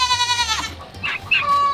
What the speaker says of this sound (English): Loudest goat in the entire world right there